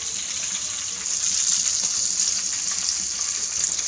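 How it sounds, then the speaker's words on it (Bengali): Fish frying in a pan of oil while hot oil is spooned over the top, a loud steady sizzling hiss close by with no talk. "দেখুন নিচের সাইড দিয়ে ভাজা হচ্ছে"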